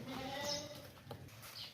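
A long-eared purebred Makhi Cheeni male goat gives a short, wavering bleat, fairly faint, followed by softer shuffling and small sounds, with no speech.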